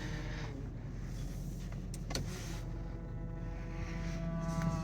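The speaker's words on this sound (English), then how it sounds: "It is power folding mirrors as well. I'll just operate those so you can see them all working." A Subaru's power folding side mirrors fold in and out, giving a soft, steady electric motor whir heard up close in a quiet car cabin.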